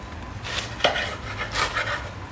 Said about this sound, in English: Now we can use a knife just to cut through it